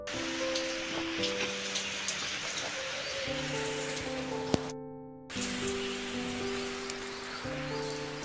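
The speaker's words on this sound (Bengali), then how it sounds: "আর বৃষ্টির প্রচণ্ড শব্দ হচ্ছে" Heavy rain pours onto a rooftop garden as a dense, steady hiss of drops with a soft tonal melody underneath, cut by a brief dropout before the downpour resumes.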